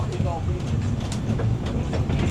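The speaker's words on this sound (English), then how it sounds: "The tram." A tram passing on a street in Christchurch, a close rumbling roll with rhythmic wheel clatter over the rails, heard under a brief voice.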